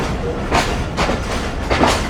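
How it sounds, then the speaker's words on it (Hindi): A Sukkur Express passenger train hauled by an HM30 locomotive rolls along, with loud, close rhythmic clickety-clack of wheels over rail joints recurring about every half second against a steady rumble. "वो देखें HM30 हमारी ट्रेन का लोकोमोटिव कहाँ घूम रहा है"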